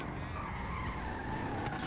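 A car skids with a continuous tire squeal and engine noise in the Grand Theft Auto V online video game after being launched by a Duke O'Death vehicle, loud and steady throughout.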